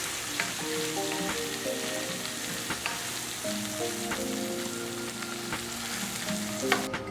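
Sausage sizzling in a hot pan with salt and ground pepper, steady crackling fry close up, occasional spatters and a stirring scrape near the end.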